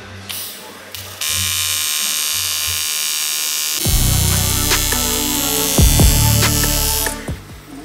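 Welding during a single-turbo engine swap produces a steady, close electric buzz with crackle that runs for about six seconds and then cuts off.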